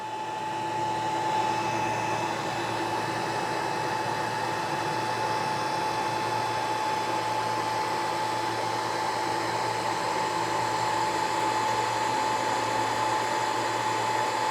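A Longer Ray 5 laser engraver with an expansion kit powering up and homing its axes, heard as a steady, fairly loud whir of fans and motors with a constant hum and faint tonal lines throughout, no talking.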